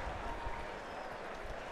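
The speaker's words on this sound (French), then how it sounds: "Applaudissez les gars!" A crowd applauds at the PSG trophy presentation ceremony. The dense, steady clapping runs unbroken throughout, soft and distant, with faint voices mixed into the wash.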